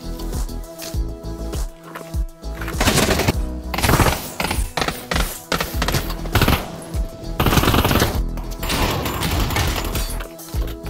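Rapid automatic gunfire from the VR shooter game Pavlov VR, dense continuous bursts of shots with crashing impacts filling the whole stretch, loud and close with no pauses.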